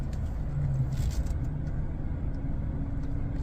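Steady low engine hum of a 2025 Chevrolet Trax 1LT car idling in reverse gear, a continuous close rumble with faint mechanical tones and no talk.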